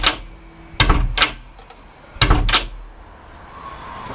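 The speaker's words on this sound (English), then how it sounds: "You shut the door a couple of times." A back gate door being shut during fitting, with two pairs of sharp wooden slams in close succession, loud and near, with quiet pauses between.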